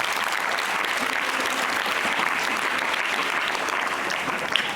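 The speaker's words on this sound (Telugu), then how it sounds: "క్లాప్స్ కొట్టండి అమ్మాయికి గట్టిగా." Schoolchildren at a government high school environmental leadership event clap for a girl, giving steady, dense, fairly loud applause that lasts throughout.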